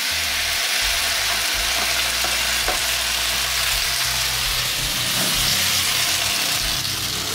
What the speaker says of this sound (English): Oil is hot. Throw in my Chow Hor noodles.